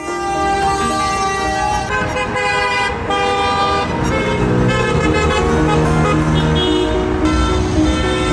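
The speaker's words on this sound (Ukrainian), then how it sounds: "Автомобілі, які проїжджають повз, сигналять не з протесту, а на знак підтримки." Passing cars on a Ukrainian roadside honk their horns nonstop beside a gathering of families of missing soldiers and prisoners of war, several loud overlapping horn tones blaring for the whole stretch over traffic noise.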